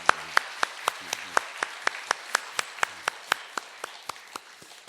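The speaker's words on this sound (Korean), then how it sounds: "박수로 격려하겠습니다." Applause from a church congregation welcoming a returning professional musician, heard as a sparse run of single claps at a steady pace, fairly faint and distant.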